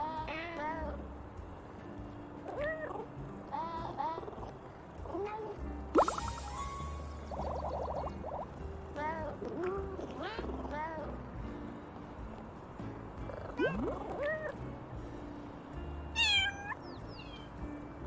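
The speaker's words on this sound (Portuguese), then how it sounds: "Olha só, agora eu consigo miar." A kitten in the video game Little Kitty, Big City meows again and again, short rising and falling cries scattered over soft game ambience, with a voice talking at times.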